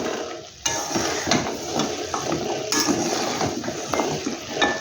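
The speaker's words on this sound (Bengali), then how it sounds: "শুধু নাড়তেই হবে কিন্তু, নাড়তে নাড়তে পুরো সাদা হয়ে যাবে।" A katkati snack being stirred in a sizzling pan, with a utensil scraping and clattering against the metal in an irregular rhythm, close and fairly loud, over a steady frying hiss.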